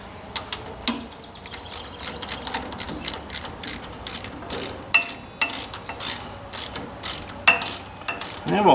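Ratchet wrench with a 9/16 socket tightening the bottom fitting of an oil line on a 1944 Ford 2N tractor, giving quick repeated close clicking bursts with small metallic knocks between them.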